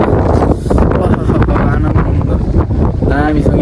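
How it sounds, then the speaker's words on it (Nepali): Wind gusts steadily across an open hilltop by a cave, a loud continuous roar buffeting the microphone throughout, with people talking underneath. "हावा लागिरहेको गाइजहरू"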